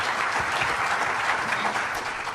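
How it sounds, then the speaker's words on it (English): Audience applause for a speaker at a talk on brain-computer interfaces, an even, continuous patter of many hands clapping throughout, with no voices over it. "give Chris a big round of applause first."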